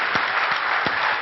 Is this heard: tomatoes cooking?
no